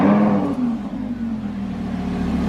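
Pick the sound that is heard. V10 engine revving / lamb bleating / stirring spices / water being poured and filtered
V10 engine revving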